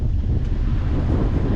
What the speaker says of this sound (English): We've got some wind now, we've got 14 knots of wind